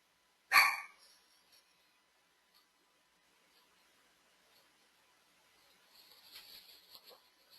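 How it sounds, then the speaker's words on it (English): A dog gives one sharp, loud bark near the start, then quiet, with faint rustling and soft higher sounds toward the end. "what are you barking at?"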